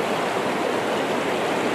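Mountain stream water flowing down from Bhutan rushes in a dense, continuous, close-up gush, steady and loud without pause or voices.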